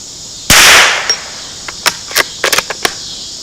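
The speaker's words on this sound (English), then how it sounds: "I'm going to fire about 5 rounds." A Ruger American .22 bolt-action rifle fires a CCI standard round with one loud sharp crack up close, then a series of lighter clicks and clacks follows.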